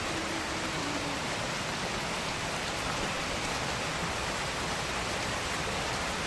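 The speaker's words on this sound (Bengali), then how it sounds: "পুরো বৃষ্টিতে একদম ঝমঝম করে পড়ছে বৃষ্টিতে" Heavy rain pours down over a market street, a dense, steady hiss of countless drops that stays constant and fills the whole scene with no voices.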